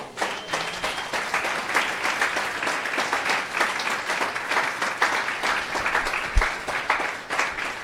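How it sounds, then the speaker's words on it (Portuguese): A church congregation at a family worship service breaks into sustained, dense applause, many hands clapping at once in a loud, continuous wash that fills the room. "Dê um aplauso a Jesus."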